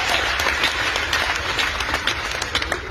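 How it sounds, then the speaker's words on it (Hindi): An audience at an event claps loudly and steadily, a dense, continuous burst of applause filling the room without pause. "एक बार जोरदार तालियां।"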